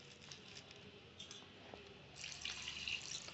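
Water trickling and dripping into a bowl of jaggery dosa batter, quiet at first with scattered drips, then a louder, steadier splashing pour toward the end; no one speaks.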